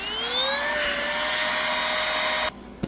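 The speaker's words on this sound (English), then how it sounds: "Now we got most of the air out of the vacuum pack." A small built-in pump whines steadily as it draws air out of a vacuum-pack travel backpack, a loud close motor tone rising slightly in pitch before cutting off abruptly near the end.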